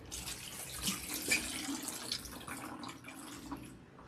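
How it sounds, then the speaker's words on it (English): Water from a tap runs steadily into a bucket, a soft continuous hiss and splash, moderately close and quiet, without speech. "fill it up with water and bring it"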